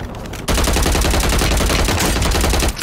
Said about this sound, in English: Bro, I'm getting shot through walls